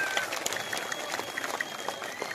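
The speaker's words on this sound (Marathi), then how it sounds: "शेखरभाऊजी गोरे यांचं एकदा जोरदार टाळी स्वागत करूया" Audience clapping to welcome Shekhar Gore at an assembly election rally in Man-Khatav, a brisk, moderately loud patter of many hands heard from a short distance.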